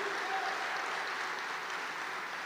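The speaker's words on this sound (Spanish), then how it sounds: "Vamos, dale fuerte ese aplauso a él en esta mañana" A church congregation applauds loudly during a Sunday morning sermon, a steady, dense clapping from many hands that holds at an even level throughout.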